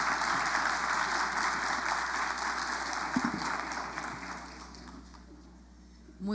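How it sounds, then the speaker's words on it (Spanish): Audience applauding a panel at the close of a conference session: sustained hall-wide clapping for about five seconds that thins out and fades, with a brief bump near the end. "un aplauso para este panel"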